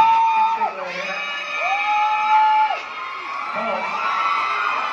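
A crowd at a mall event cheers and shouts with high-pitched whoops and yells, sustained for several seconds at a moderate distance.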